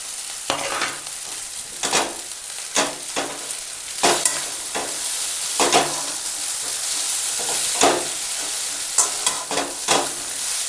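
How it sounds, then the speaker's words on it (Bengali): Home-style chowmein noodles stir-fry with vegetables in a pan: loud, rhythmic scraping strokes of a spatula repeat over a constant hot-oil sizzle, up close and without speech. "চাউমিনগুলো খুব গোটা হয়ে আছে বলে ভালো করে ভাজা হচ্ছে না"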